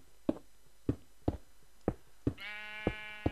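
Sheep bleating in the Minecraft video game, a single nasal bleat near the end, set against a steady run of sharp, evenly spaced knocking taps heard close and clear.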